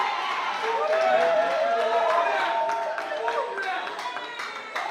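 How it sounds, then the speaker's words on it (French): Audience applause at an awards ceremony, a brisk run of overlapping handclaps with cheering voices mixed in, fairly faint and easing off slightly toward the end. "Est-ce qu'on peut applaudir pour ces extraits,"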